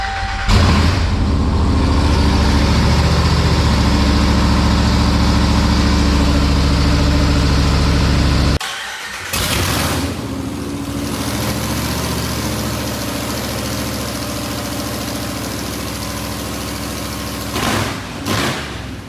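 A Hellcat-swapped RAM 1500 pickup with straight headers and race dumps idles very loudly with a deep, lumpy rumble, then cuts out abruptly and gives way to quieter revving and engine noise.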